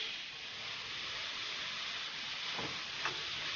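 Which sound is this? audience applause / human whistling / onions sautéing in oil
onions sautéing in oil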